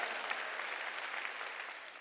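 A church congregation claps together during a worship service, a dense, steady wash of applause lasting the full two seconds, with a faint voice underneath.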